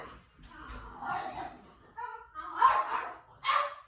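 Indoor dogs bark and yip in several loud bursts, mixed with whiny, whimpering tones, fairly close by.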